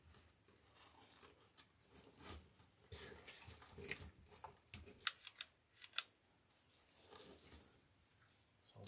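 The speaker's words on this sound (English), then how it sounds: "So I'm just going to cut the tail." Scissors snipping the ribbon tail on a leopard-print welcome wreath, several quiet, crisp cuts and rustles of ribbon spread across the stretch, close and faint with no talk.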